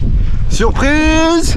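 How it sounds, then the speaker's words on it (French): Strong wind roaring across a mountain ridge on the GR20 trek in Corsica, loud buffeting microphone noise throughout as a voice speaks briefly over it. "Les gars, il y a un vent."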